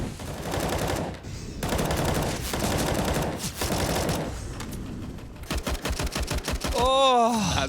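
Automatic rifle fire in CS:GO on Dust2, sprayed through a smoke during a professional match, with rapid bursts under an excited caster's voice and a crackling run of shots near the end.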